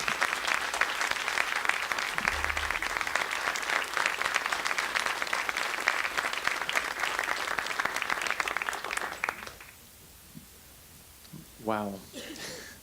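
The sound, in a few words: audience applause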